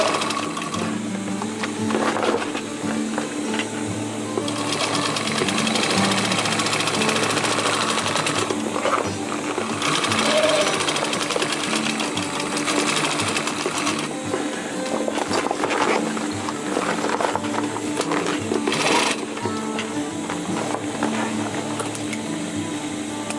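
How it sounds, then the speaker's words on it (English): A sewing machine runs steadily in continuous stitching as a roll-up bag is sewn, its mechanical whir loud and close with slight pauses and changes in pace and no talking. "When you get to the bottom part, continue sewing back to the starting point."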